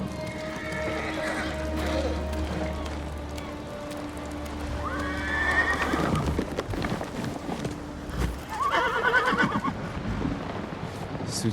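Kaze, a horse in the video game Ghost of Tsushima, clip-clops along with hoofbeats, then gives two loud neighing whinnies in the latter half over low ambient game sound.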